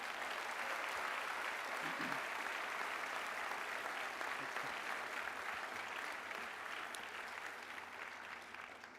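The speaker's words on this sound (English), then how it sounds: "So give yourself a huge round of applause for doing that." A Ph.D. hooding ceremony crowd applauds steadily for about nine seconds, a dense sustained clapping that holds level and then slowly thins toward the end, with no speech over it.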